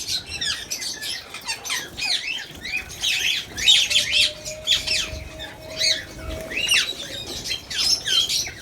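Gouldian finches in a breeding aviary, a busy stream of high chirps and squeaky calls from several birds, steady and fairly close, with no talking.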